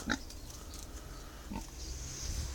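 A pig grunts briefly near the start, with a second softer grunt around the middle, against a low rumbling background.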